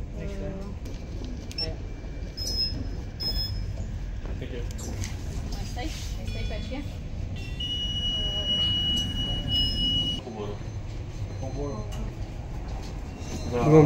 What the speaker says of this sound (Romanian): Luăm trenul spre aeroport.